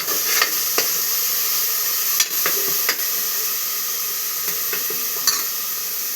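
Chicken masala is stirred in a sizzling pan, a constant hiss of frying broken by several sharp scrapes and taps of the spoon against the pan.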